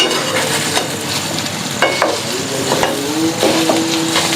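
Alu vadi, colocasia leaf rolls, frying in a pan over a low flame, a steady close sizzle with scraping and light knocks as they are turned, and no one talking.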